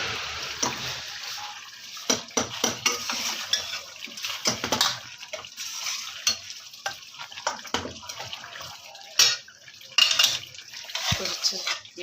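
A metal spoon stirs and scrapes biryani ingredients in a pot, making irregular clinks and wet mixing noises. Bursts come in uneven clusters, close up, with faint background noise between them.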